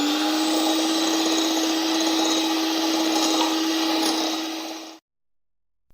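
Electric hand mixer whirring steadily as it beats eggs, sugar and oil, a continuous close motor drone holding for about five seconds before cutting off abruptly into silence.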